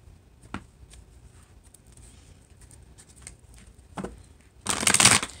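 Tarot cards from a Casanova Tarot deck are shuffled close up in a few short riffling bursts, ending in one longer, louder flurry.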